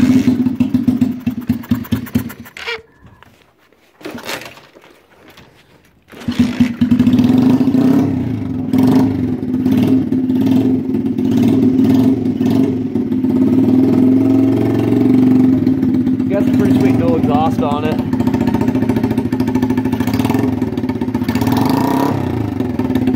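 A 49cc mini Harley chopper engine, choked for a cold start and pull-started, sputters through a few tries with short gaps, then catches and keeps running at a loud, steady, close idle with occasional revs.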